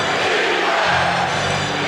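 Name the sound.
basketball arena crowd cheering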